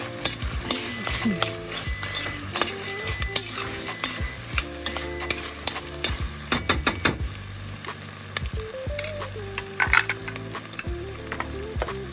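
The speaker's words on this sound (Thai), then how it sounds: "เวลาเราคั่วไอ้กะทิ แล้วก็ คั่ว เครื่องที่กระชายหหอมกระเทียมกระชาย" Coconut milk stir-fried with green curry paste, fingerroot and garlic for a Thai beef green curry, with a steady close sizzle and repeated scraping stirs of a utensil against the pan, and no voices.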